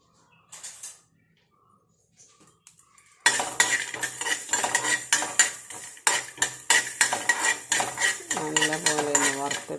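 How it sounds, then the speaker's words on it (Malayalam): Fenugreek seeds and almonds roasting in a hot pan, a spoon scraping and clinking against the metal in brisk repeated strokes, loud and close after a quiet start, with no voice. "നല്ലപോലെ ഒന്ന് വറുത്തെടുക്കുക."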